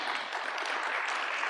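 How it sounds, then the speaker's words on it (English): An audience at a business forum panel applauds, a brief dense wash of many hands clapping at steady volume, heard alone without voices. "Please give them a round of applause."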